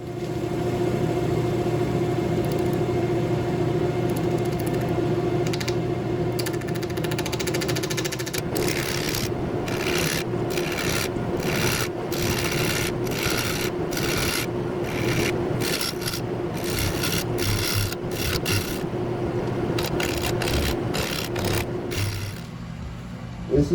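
A woodturning gouge cuts the outside of a plywood bowl spinning on a lathe, giving a continuous rasping scrape over the motor's hum. Rhythmic catches and pulses come in the second half.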